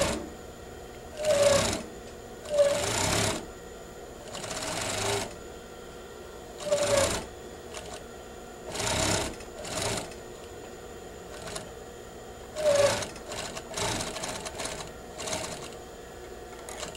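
A sewing machine stitches a bias trim strip in repeated short, close bursts of rapid needle chatter separated by quiet pauses over a faint steady hum.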